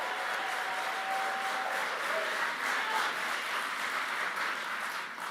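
Dense crowd applause at a political rally fills the space in a continuous wash of clapping, steady and fairly distant, with a faint voice underneath.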